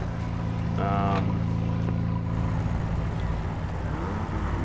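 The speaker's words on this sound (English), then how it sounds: "Almost sounds like a Honda Civic with a fart can in that first gear" The engine of a 2017 Chevrolet Colorado ZR2 in the SnowRunner video game drones in first gear, a steady, close, low-pitched hum with a short rising whine early on.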